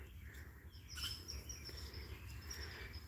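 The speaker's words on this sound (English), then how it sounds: "I think I startled a bird." A startled bird gives thin, high chirping calls in short repeated bursts beside a brick church, faint over a low steady outdoor hum.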